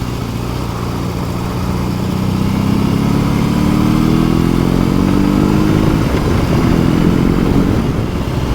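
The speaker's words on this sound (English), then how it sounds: "asked if I could record the sound of the bike" A BMW R18 Bagger motorcycle engine idles loudly and close, with a deep rumbling throb that rises slightly as the revs climb midway, then settles steady.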